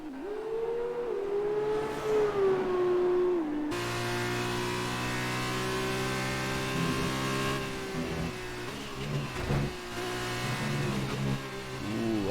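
An F2 race car engine in a racing video game accelerates with a rising whine, then braking and a shift to a steady high-revving drone on an uphill section, heard up close with no talk.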